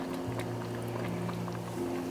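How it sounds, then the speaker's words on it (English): Bean cream poured into a pot of vegan chicken-style noodle soup gives a soft, steady liquid pouring and bubbling under a low constant hum, close by and fairly quiet. "now I'm gonna pour in some of this bean cream"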